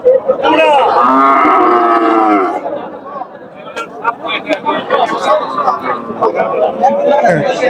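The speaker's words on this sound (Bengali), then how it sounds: "এখানে সুন্দর একটি গরু আছে" Cattle at a busy rural cattle market, including an Australian cross cow, give a loud, long, close moo, followed by crowd chatter and voices in the background.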